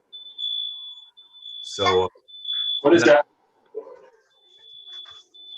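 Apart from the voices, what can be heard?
smoke detector alarm going off while wife cooks pizza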